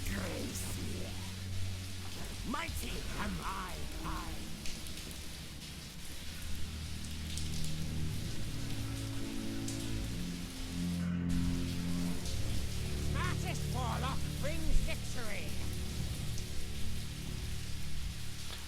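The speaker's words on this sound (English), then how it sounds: "Hope the rain sounds are not too loud." Rain falls outside an open window with a soft, steady patter and hiss running throughout, faint behind indoor sounds and occasional brief noises, with no clear speech.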